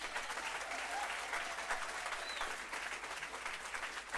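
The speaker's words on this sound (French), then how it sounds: "Est-ce qu'on peut acclamer Jésus" A church congregation applauds and cheers for Jesus during a sermon, steady clapping filling the room evenly for several seconds with a faint shout or two under it.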